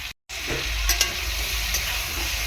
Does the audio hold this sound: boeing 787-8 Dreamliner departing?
no